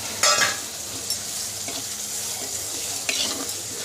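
Tamarind kuzhambu with appalam and masala bubbling and sizzling in a pan, a steady frying hiss broken by a few sharp louder crackles and spoon scrapes, with no talking.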